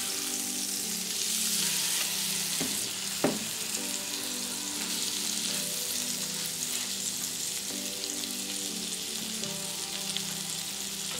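Stuffed salmon fillets cooking in a hot pan, a steady bright sizzle that runs throughout, with a single brief clatter or scrape early on.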